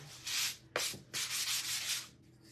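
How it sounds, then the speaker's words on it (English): Steady rasping strokes of a 220-grit sanding block rubbing back and forth over a black painted piece to remove paint burrs, three or four passes, close and alone. "sand that black piece just a little bit to get any little paint burrs off it"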